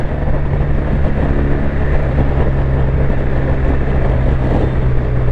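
A 2021 BMW R1250 RT touring motorcycle riding along the road, its engine a steady low drone mixed with loud, constant wind rush, no voices over it.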